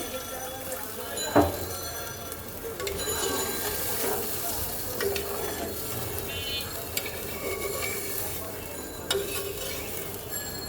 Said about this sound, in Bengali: এখন আমি দিয়ে দেব ঝোলের জন্য জল এই আমি দিয়ে দিলাম ঝোলের জল